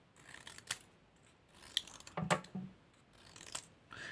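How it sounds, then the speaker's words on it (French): Scissors snip through small scraps of leftover paper during card-making, with several short crisp cuts spaced out, two or three clustered near the middle, close and fairly quiet with no talking. "je vais découper des petits morceaux comme ça."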